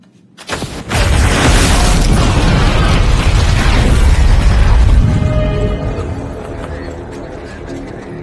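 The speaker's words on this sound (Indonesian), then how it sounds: "ternyata ada gas di ruangan itu dan seketika ruangan itu meledak" A sudden loud gas explosion in a room bursts in after a brief quiet moment, followed by a long, roaring rumble with crackling debris that slowly fades.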